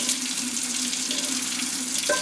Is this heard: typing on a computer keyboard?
no